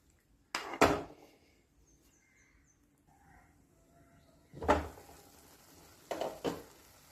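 A spoon scrapes and clanks in a pan of methi omelette curry, with a couple of brief stirring bursts separated by quiet pauses and no talking.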